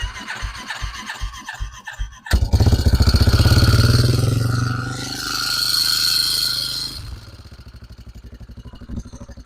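A 1998 Yamaha Warrior 350 ATV engine is cranked a few times with the choke on, then fires and revs loudly up close, settles, and drops into a rhythmic, chugging idle.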